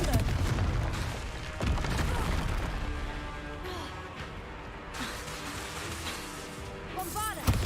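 Explosive blasting-spell impacts in Hogwarts Legacy: dense, loud broadband booms and crashing bursts, repeated through a busy combat mix with a voice speaking over it.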